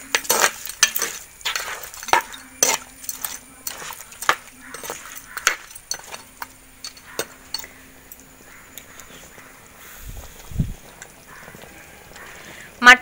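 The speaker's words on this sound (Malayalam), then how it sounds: "നന്നായി ഇളക്കി യോജിപ്പിക്കാം." A spoon stirs mutton curry in a metal pan, producing a series of sharp, irregular clinks and scrapes up close, busiest at first and then thinning out, with a brief low thump near the end.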